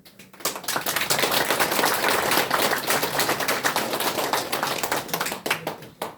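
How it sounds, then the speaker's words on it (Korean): Crowd clapping at a Korean political press conference announcing a parliamentary candidacy, loud close-miked applause with sharp individual claps, steady for several seconds and tapering at the end. "다시 한번 감사드리며 우리 모두에게 박수를 보내드립니다."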